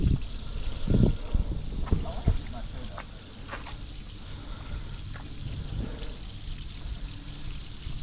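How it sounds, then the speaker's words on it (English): Water drains from the plug hole of a Chris Craft boat. It splashes and trickles steadily, with a few louder bursts near the start, close by and fairly quiet. "pull the plug out and see how much water comes out."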